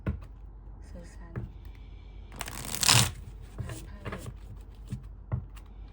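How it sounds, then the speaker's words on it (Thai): Tarot cards are shuffled in one brief, loud riffling burst lasting about half a second. Quiet taps and light handling of the deck come before and after it. "ขอ เปิดไพ่อีกสิบใบนะคะ เอาใหม่สิบใบเนาะ"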